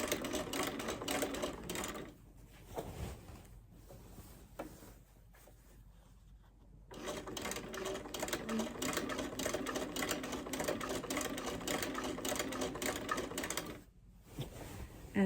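A sewing machine stitching a quilt row at stitch length 3.5 runs in fast, rhythmic mechanical bursts, stopping briefly several times before resuming, close and steady, with no voices.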